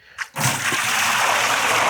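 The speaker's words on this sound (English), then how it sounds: "Sometimes you get some splashes, but fortunately this is all sanitizer and it won't be sticky product." Sanitizer water gushes out of a Carpigiani RTX Tru-2 batch freezer into a bucket: a brief drip, then a loud steady splashing pour that runs on without pause.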